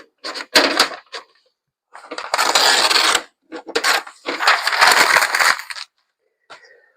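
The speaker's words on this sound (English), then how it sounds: "This is my Panasonic dot matrix printer." Panasonic dot matrix printer taking in clean paper, heard as bursts of mechanical grinding and clattering feed motion, two long runs separated by short clicks and pauses, close and fairly loud with no talking.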